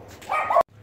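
A single loud, close dog bark on a street, one sharp burst with a brief lead-in, then sudden quiet.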